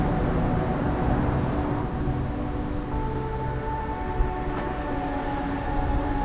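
Railroad train in Ohio's Cuyahoga Valley rumbling along the tracks in a steady, continuous roar with faint high squeals, moderately loud and unbroken, with no talking.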